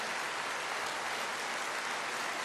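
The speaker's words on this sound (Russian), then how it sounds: "Ей аплодисменты." A large concert audience at a televised year-end song awards show applauds a songwriter, a steady, dense wash of clapping with no gaps.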